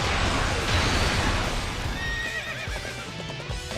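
A horse in the Dynasty Warriors video game gallops with rapid clip-clopping hooves and lets out a loud whinny, the game audio dense and close, fading slightly toward the end.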